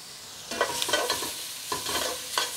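Tomato paste sizzles in a pot while a spoon scrapes and stirs it in a few distinct strokes, a close, moderately loud frying hiss under the scraping.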